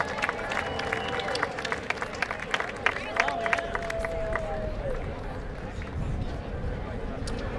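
An outdoor crowd at a George Washington Birthday Parade in Alexandria gives a round of applause, scattered claps and murmuring voices over a steady street noise bed, with a whistle-like tone drifting through partway.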